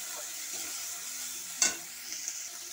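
A spice masala of ginger paste, turmeric and chilli powder sautés in a pan for a fish roe dish, with a soft steady sizzle, one sharp stirring scrape midway and a couple of lighter taps after.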